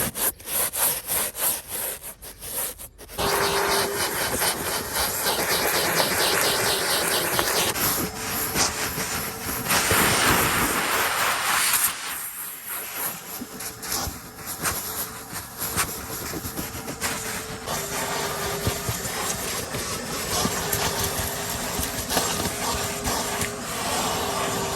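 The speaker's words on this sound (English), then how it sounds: "But hey, we got our trusty shop vac." A shop vac runs continuously at close range while vacuuming the interior of a Nissan 350Z, a steady rushing suction with shifting pitch as the nozzle moves over carpet and seats, briefly choking around the middle.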